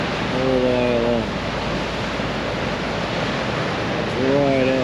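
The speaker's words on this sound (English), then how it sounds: "So I'd say that wave's about 6 foot. So a couple of metres high, and it just pushes the water along the ledge" Ocean waves around two metres high surge and wash along a rock ledge in a loud, continuous roar of surf, swelling at the start and end, with faint tonal whistles above the noise.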